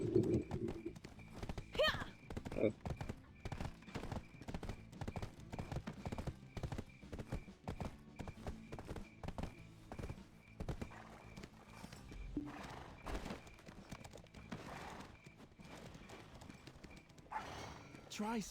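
Rapid rhythmic hoofbeats of a galloping horse in the video game Black Desert Online, steady and close, with occasional snorts and game effects over a low background.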